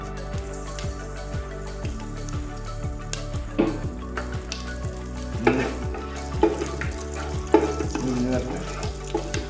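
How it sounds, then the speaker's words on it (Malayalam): Curry leaves fry in hot oil in an unwashed masala pan while making a thick chicken curry gravy, giving a constant close sizzle with sharper crackling bursts, over a rhythmic low background beat. "എണ്ണ വെച്ച് വേപ്പിൻ്റെ ഇട്ട് കുറച്ച് കറിവേപ്പില ഇടാം."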